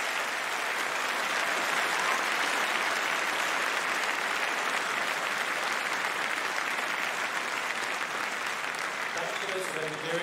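Sustained, dense applause from a large crowd at a Faculty of Engineering commemoration day ceremony, cheering on the Aeronautics graduates, holding steady and loud for the whole stretch.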